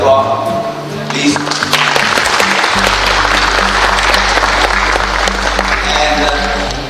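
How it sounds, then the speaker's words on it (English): An audience at an IIM Visakhapatnam international event in Singapore and Batam breaks into loud, dense applause that runs steadily throughout, with music-like tones underneath. "By giving them a big applause,"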